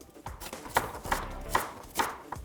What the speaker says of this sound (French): Je suis pas très bon pour couper les oignons.